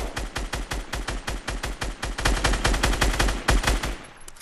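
Rapid automatic gunfire from players shooting at each other in Fortnite, bursts of sharp shots in a fast rhythm that grow denser and louder midway, no talking over it.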